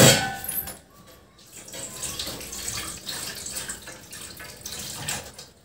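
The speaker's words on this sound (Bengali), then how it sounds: "হাত ধোয়া হয়েছে ভালোভাবে?" A child's hands are washed under a running tap at a sink, water splashing steadily and close with faint dripping, alone with no talk.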